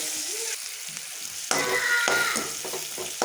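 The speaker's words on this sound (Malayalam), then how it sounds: "പിന്നിട്ട് കേരറ്റ് സവോളയും പച്ചമുളകും ഒക്കെ ഇട്ട് കൊടുത്ത്" Carrot, onion and green chilli fry in a hot pan, a loud steady sizzle that swells when ingredients hit the oil, with clattering stirring and scraping of a spoon through the pan.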